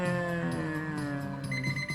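A kitchen timer alarm going off while instant ramen cooks: a sustained electronic ringing tone with steady pulsing, loud and close, running throughout with no talk.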